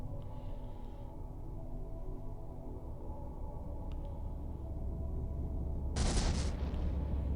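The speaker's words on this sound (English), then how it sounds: "Next time I hear explosions, I'm going to stop and see if I can find them." Explosions and gunfire in the X-COM Apocalypse video game: a low steady rumble runs throughout, and a sudden loud, sharp blast erupts near the end and trails into a heavy roar.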